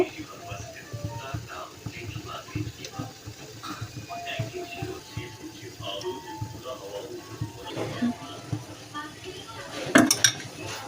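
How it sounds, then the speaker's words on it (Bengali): A dish clatters against a metal steaming pot as an inner saucer is lifted out while making bhapa pitha, with scattered clinks and scrapes throughout and a sharper knock near the end, over a background murmur of voices. "এখন আমি ভিতরের পিরিচটা বের করে নেব"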